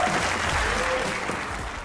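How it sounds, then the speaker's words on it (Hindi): Studio audience on a comedy talk show applauding to welcome a guest, dense sustained clapping filling the room without pause for about two seconds. "तालियां बजाने पे नहीं लगती है कोई फीस, तो बजाइए"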